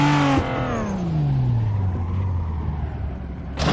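A race car engine in the racing game Assetto Corsa winds down from a high whine into a lower steady drone, with a second engine pitch sliding down beneath it.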